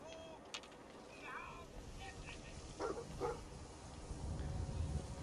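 Dog barking inside the video game Fallout 4, short yips and whimpers scattered over game background noise, fairly faint and mixed with other sounds.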